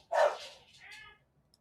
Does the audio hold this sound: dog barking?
yes